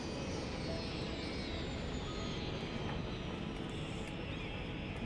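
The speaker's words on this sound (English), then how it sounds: "we've got an airport here with some futuristic style aircraft" Futuristic aircraft at an airport in the Cities Skylines video game give a steady, loud jet-engine roar that holds evenly throughout, with a faint high whine on top and no talk.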